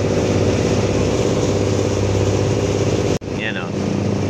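A large fast boat's loud motor engine roars steadily at close range off Isla ng Talim, Binangonan, Rizal, with a brief sharp dropout before the droning continues.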